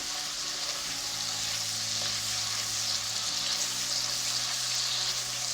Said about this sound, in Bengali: আমি মশলাটা কষিয়ে নিচ্ছি